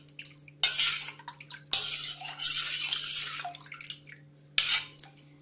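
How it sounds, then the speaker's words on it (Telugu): Salt stirred into buttermilk in a bowl for dahi vada, giving bursts of liquid swishing and scraping close by, starting and stopping several times with brief pauses, with no talk. "ఇందులో ఉప్పు వేసి బాగా కలుపుకోవాలన్నమాట"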